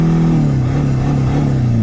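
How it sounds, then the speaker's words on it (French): A car fitted with square wheels accelerates with a loud, close engine drone whose pitch wavers and slowly shifts, heard alone for a brief moment. "accélère moi Jean-Yves, accélère."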